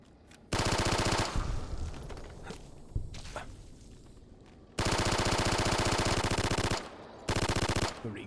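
Rapid sustained automatic fire from a P90 submachine gun in Fallout New Vegas, loud bursts near the start and again later, with quieter scuffling and shuffling between them.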